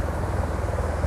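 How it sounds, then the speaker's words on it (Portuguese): Helicopter flying overhead near an offshore oil platform airport in the Campos Basin, a steady continuous rotor drone with low throbbing pulses, loud and sustained with no voices. "aí vem o helicóptero trazendo o pessoal"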